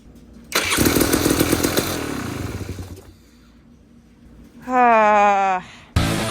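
A Beta X-Pro RR 300 dirt bike engine is kicked over with the choke on and briefly sputters loudly for about two seconds, then dies away, followed by a brief exclamation from a person nearby.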